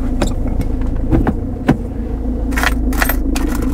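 Small metal pieces clink and rattle a few times nearby, with brief jingling bursts over a low, steady hum.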